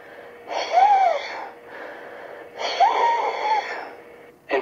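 Two long, loud asthmatic wheezes, close and alone, each a strained whistling breath with a tonal squeak, followed by a brief sharp intake at the end.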